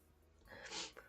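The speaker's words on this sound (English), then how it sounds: "Oh shoot, I think I'm gonna sneeze." A single sneeze from a character in the wedding DLC of the game Our Life: Beginnings and Always, near a food stall: a short breathy build-up, then a sharp hissing burst, close and fairly quiet.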